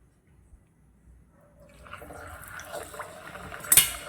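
Aloo samosas slipped into hot oil begin to fry, a soft hiss and bubbling rising from near silence and swelling over a few seconds, with a brief clink near the end.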